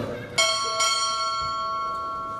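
Ship's bell rung twice at a U.S. Navy Chief Petty Officer pinning ceremony, two bright metallic strikes about half a second apart, each ringing on with a long shimmering decay, loud and close after a brief murmur of voices.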